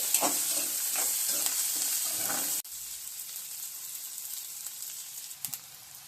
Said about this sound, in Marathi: पूर्ण मिश्रण एकजीव करून घ्यायचं आहे।